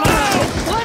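Sniper rifle fire from Black Ops 2 as players hold a window, heard as dense, loud overlapping gunfire and booms through a short burst, with voices mixed in.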